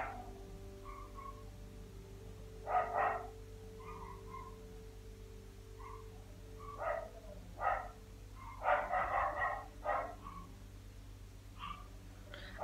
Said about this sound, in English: I'm gonna try to stop them from barking real fast